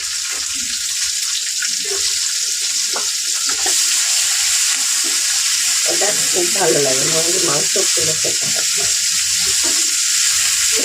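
Two chopped onions fry in a pan with whole cumin, two small cardamoms and a piece of cinnamon, giving a loud, steady sizzling hiss throughout while a person talks over it.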